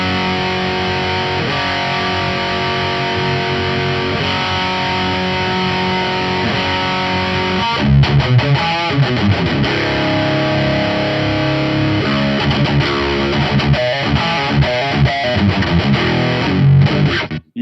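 Electric guitar played through a Laney Ironheart amp plugin with OD overdrive, loud and saturated, starting with sustained chords and then moving into tight, chugging palm-muted riffs.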